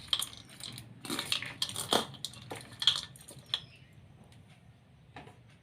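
A spoon stirs gopalkala mixture with cucumber and green chilli in a bowl, making faint, sparse clinks and soft scrapes in a quiet setting.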